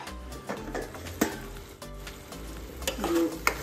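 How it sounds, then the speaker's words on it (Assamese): Lentils sizzle and crackle as they fry in a pan while a utensil scrapes and clatters against it in irregular stirring strokes, close up. "এইখিনি ভাজি থাকিম, ঘনে ঘনে লৰাই থাকিম"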